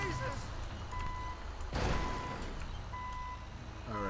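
A truck backing up with a trailer in a GTA 5 real-life mod gives off steady, evenly spaced reversing beeps over a low engine rumble, with a burst of noise midway and someone talking quietly underneath.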